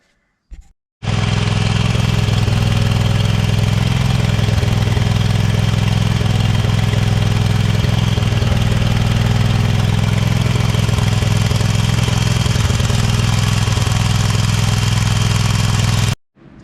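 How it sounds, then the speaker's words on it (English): A Hornet zero-turn mower with a Briggs & Stratton 25 hp engine starts after a second of silence and runs at a loud, steady, droning idle close by, then cuts off abruptly at the end. "Now I'm going to try to fire it up and we'll spin it with this off the ground"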